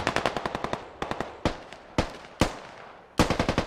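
Gunfire in the tactical shooter game Squad: rapid automatic bursts alternating with single sharp shots, loud and close with short ringing decay, no talk.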